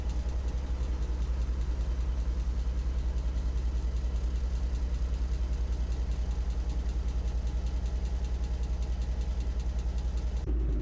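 A truck engine idles on a road trip through Alaska, a steady low rumble with rhythmic throbbing that runs on unchanged, then cuts out abruptly at the very end as the engine is switched off.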